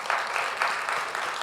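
A church congregation applauds the worship team, a brief burst of steady, moderately close clapping from many hands with no voices over it.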